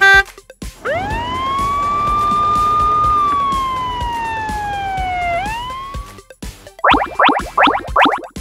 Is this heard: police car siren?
yes